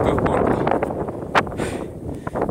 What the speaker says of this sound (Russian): сейчас все так же идет встречный ветер